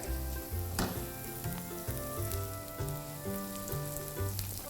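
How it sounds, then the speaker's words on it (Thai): Boiled, squeezed-out spinach sautéing with garlic in a pan over raised heat for a spinach and cheese pie, giving a steady, continuous sizzle with occasional stirring, mixed with background music carrying a clear bass line and no talking. "ตอนนี้ก็ผัดผักโขมนะครับ เพิ่มไฟหน่อยก็ได้"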